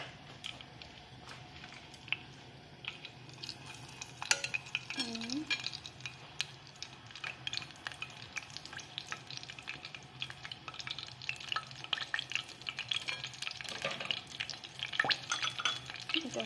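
Eggplant pieces go into oil that is not quite hot yet. A quiet sizzle builds over the clip, broken by stirring scrapes and clinks of a utensil against the pan, with a few brief words spoken.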